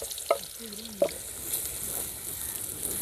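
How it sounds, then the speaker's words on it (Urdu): Onions fry in hot oil at the start of a fish curry, a soft, steady sizzle with a couple of sharp utensil taps early on and hiss continuing alone. "پیاز اچھی سے ریڈ کر لینا اپنے گولڈن کلر کا"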